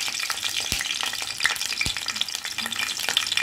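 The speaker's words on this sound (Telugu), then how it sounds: "ఇంకా నెయ్యిలో ఫ్రై అయ్యి పొటాటో ఫ్రై అయినాక ఆనియన్స్ మరీ ఫ్రై అవ్వాలి లైట్గా" Potatoes fry in ghee for a drumstick and potato curry, giving a continuous close sizzle broken by a few sharp stirring clicks, with no talking.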